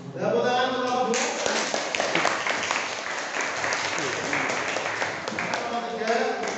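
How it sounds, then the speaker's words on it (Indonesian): A classroom of students claps for a student group at the end of an Islamic economics lesson in a vocational high school, a dense, steady burst of applause lasting several seconds, with voices faintly mixed in. "Tepuk tangan untuk kelompok 2."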